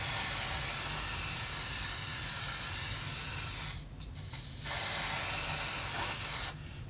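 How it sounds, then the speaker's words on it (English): Lace tint spray from an aerosol can misted onto a Sensationnel Butta Unit 36 wig lace, two long steady hissing bursts, close and fairly loud, separated by a brief pause. "tint the lace, add some color to it using the even"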